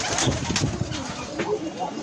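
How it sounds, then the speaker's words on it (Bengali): Soft pigeon coos murmur through a steady background hum, fairly close, repeating in low rounded calls over a couple of seconds. "এখানে পায়রা আছে, ওই যে দেখতে পাচ্ছেন পায়রা"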